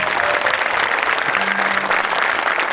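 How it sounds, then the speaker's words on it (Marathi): A Marathi comedy stage audience applauds in a dense, steady burst of clapping that fills the whole stretch at close range, with no speech over it. "वरून टाळ्या वाजवायच्या"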